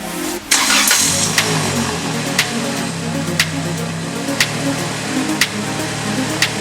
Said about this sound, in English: so I'm gonna turn on the engine and see the level